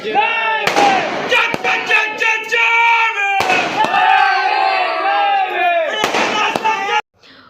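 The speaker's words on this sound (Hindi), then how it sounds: "भीम जयंती का सेलिब्रेशन हमारे एरिया में पटाखों के साथ, पटाखों के गर्जनाओं के साथ हुआ था" Sharp firecracker bangs crack out several times amid loud crowd shouting and chanting voices at a Bhim Jayanti (Ambedkar Jayanti) celebration in Chandrapur, India.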